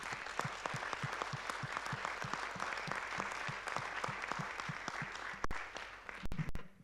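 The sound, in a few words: congregation applause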